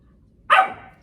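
A female dog lets out a single sharp, loud bark close by, with nobody talking over it.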